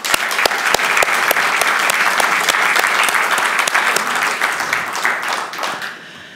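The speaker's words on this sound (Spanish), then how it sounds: "Un aplauso." Audience applause at a tribute and recognition ceremony in a museum, a loud, dense round of clapping from a sizable crowd that holds steady for several seconds before thinning and fading at the end.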